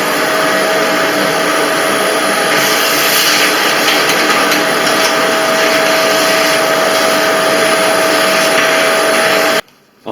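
A vacuum cleaner draws dust off window ventilation grilles with a loud, constant, close roar. The roar runs almost unbroken before cutting off abruptly at the end, with no speech.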